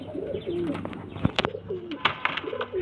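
Several old-line show pigeons coo in soft, repeated rolling phrases, fairly close, with a few sharp clicks and knocks scattered between the calls.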